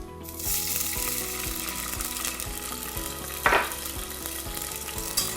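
Corn sizzles and crackles in hot olive oil in a pot, with soft knocks of stirring and one brief louder hiss partway through.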